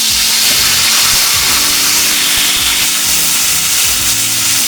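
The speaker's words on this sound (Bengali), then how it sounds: "এবার আমি টমেটোটা দিয়ে দেবো" Tomatoes hit hot tempering oil in a pan for a Bengali soybean curry, setting off a loud, close, steady sizzle and hiss that goes on without a break, with no talking.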